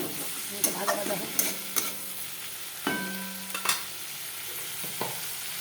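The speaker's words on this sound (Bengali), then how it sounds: "এটা ভালো করে ভাজা ভাজা হবে।" Onion and tomato with turmeric, salt and a little sugar fry in oil in a pan, a soft sizzle broken by several sharp scraping stirs of a spoon at irregular moments.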